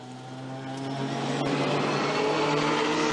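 A Porsche racing car's engine rises in a distant drone at the Zandvoort circuit during a British GT race, building steadily louder as it passes.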